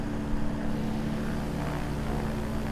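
A TL-Ultralight Sting S4 propeller engine in Microsoft Flight Simulator, throttle eased back slightly, produces a steady, continuous drone that holds even in loudness with no speech over it.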